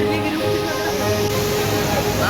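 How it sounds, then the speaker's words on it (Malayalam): A waterfall in Wayanad sends out a continuous, even rush of water that fills the whole stretch, with voices faintly mixed in. "വെള്ളച്ചാട്ടം."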